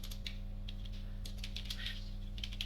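Rapid typing on a computer keyboard as a title is entered, with a steady patter of close, light keystrokes over a low constant hum.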